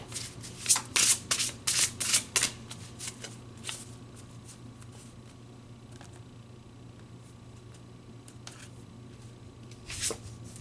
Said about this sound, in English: Let's pull you another card.